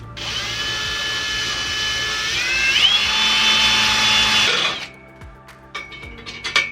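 A power drill bores a hole for a bolt through a fabricated tubing bracket on an E46 rear end. It makes a steady high whine for about four and a half seconds, dips in pitch partway, then stops, and a few sharp clanks follow.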